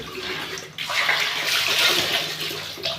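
Water splashes and pours while a bucket and dishes are washed at home, a brief rinse giving way to a louder, steady gush of running water, close by and without speech.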